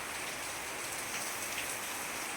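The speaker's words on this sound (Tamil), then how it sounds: "எப்படி இருக்குது மழை பெய்யுதா?" Heavy rain falls continuously outdoors during a storm, a dense, even hiss of drops on surfaces at a steady moderate level with no voices.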